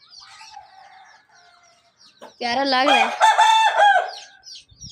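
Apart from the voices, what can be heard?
angry rooster clucking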